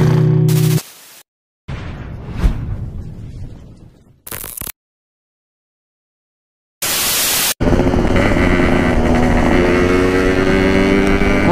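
A Yamaha RX King motorcycle engine runs with a loud, steady, raspy roar. The sound comes in choppy sections broken by abrupt silences, then holds strong and continuous to the end.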